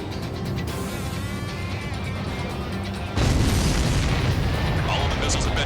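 Missiles explode in the Ace Combat 7 flight combat game, a sustained roar of jet and blast noise that jumps suddenly louder midway into a dense, crashing burst.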